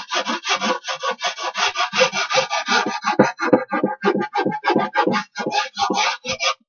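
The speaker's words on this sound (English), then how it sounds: "with a little bit with a rasp, because there's hard glue there" A rasp files hard glue off a wooden glue line in steady, close back-and-forth strokes, roughly two or three scraping passes each second with no voices.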